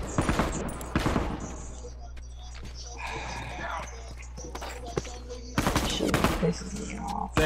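Gunfire in The Last of Us multiplayer match, loud bursts of shots at the start and again near the end, with quieter game ambience between and players talking over it.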